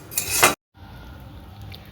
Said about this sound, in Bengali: এখন ভাজছি